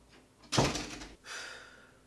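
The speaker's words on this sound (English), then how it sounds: "shut the door" A door is pushed shut with a single close, solid thud, followed by a short softer rustle.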